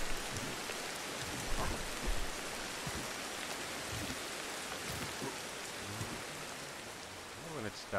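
Steady rain falls in the game Ancestors: The Humankind Odyssey, a continuous wash of patter and droplets that holds close and even throughout with no break.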